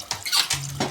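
About 200 ml of water poured into a pot of sugar for a plum, fig and apricot chutney, a brief close splashing gush lasting under a second.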